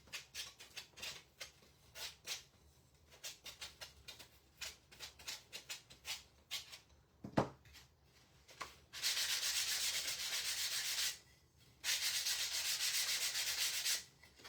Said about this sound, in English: While I have my sanding sponge, we'll go ahead and sand